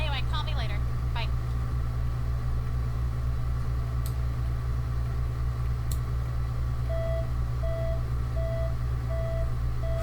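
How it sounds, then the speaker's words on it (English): An electronic device gives a regular series of short, steady beeps in the latter part, over a constant low hum with a few brief clicks and some speech early on. "What's beeping?"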